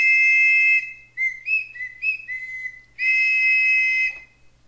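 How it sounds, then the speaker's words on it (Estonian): A large two-tube wooden whistle gives two long, loud, steady blasts with a run of shorter stuttering toots between them, played solo and up close. "See on suur 2-toruline vile."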